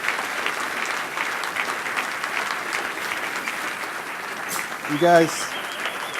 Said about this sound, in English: let's have a round of applause for the robots team